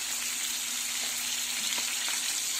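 Pork chops fry in a pan with butter, giving a loud, continuous sizzle and crackle with occasional small pops, steady throughout.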